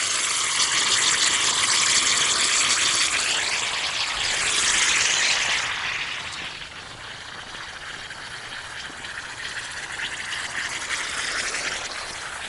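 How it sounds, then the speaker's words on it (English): Compressed air drives the water out of a sprinkler line during winterizing, making a loud, continuous spraying hiss. It swells for the first five seconds, then settles to a steadier, slightly quieter rush. "once that guy basically shoots all of his water out of the line"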